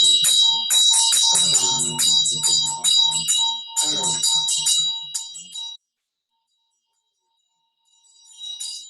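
A ritual bell used in Vajrasattva practice rings in rapid repeated strikes with bright, shimmering metallic tones, then stops and decays to silence before faint ringing resumes at the end.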